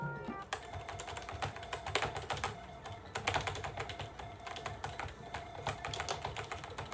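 Rapid clicking of keys on a computer keyboard, continuous typing with uneven rhythm, close up and fairly quiet.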